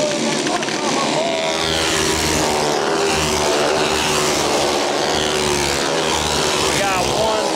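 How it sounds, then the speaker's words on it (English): A flathead-powered limited modified race car laps a kart track, its engine droning steadily with rising and falling revs as it passes. Excited race commentary runs over it. "That 88 gets a good run down the back."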